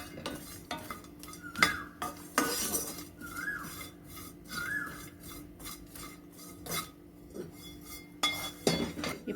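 Roasted dry coconut scraped from a pan onto a plate while making a chutney mix, with close metallic clinks and scrapes of a spoon against pan and plate in irregular bursts, no talking.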